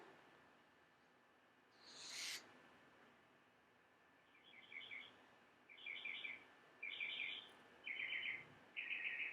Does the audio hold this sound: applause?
no